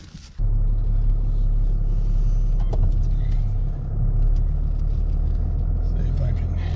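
A big Dodge truck pulling a dump trailer rolls along with a steady, loud low rumble and road noise, a brief dip midway, and no clear voices over the drone.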